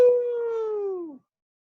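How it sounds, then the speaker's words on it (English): A single long howl drawn out for about a second with a slowly falling pitch and fading tail, carrying outdoors at an evening neighborhood gathering; no talk over it. "People are howling outside right now."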